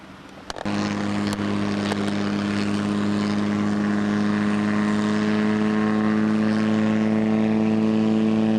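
An aircraft engine at an airport in Hawaii kicks in after a brief quiet moment, then holds a loud, steady droning hum with strong tonal harmonics for several seconds.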